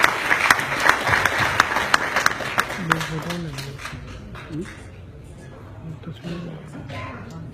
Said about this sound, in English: A big round of applause for him, sir.